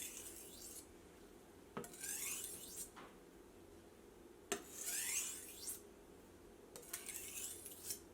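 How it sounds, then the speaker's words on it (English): A kitchen knife glides across a wet whetstone in slow, repeated rasping strokes, each a scraping sweep lasting about a second, close and fairly quiet with short pauses between them. "continue gliding the knife across the stone"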